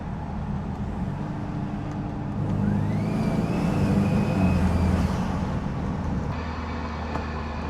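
A BMW 428i drives along with its engine intake and exhaust audible, a steady low drone that swells as the car pulls harder midway, with a rising whine on top, then settles back to cruising.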